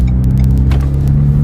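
Renault Megane 4RS fitted with a Helix clutch and lightweight flywheel pulling along a road, a close, loud steady engine drone with a sustained low tone and a few brief clicks and rattles over it.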